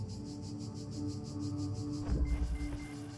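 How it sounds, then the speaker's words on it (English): Cicadas and crickets chirp steadily in the ambient soundscape of The Talos Principle video game, a soft continuous pulsing trill with a faint low tone, quiet and unbroken. "I like the cicadas that we hear / jarflies in the background. Crickets."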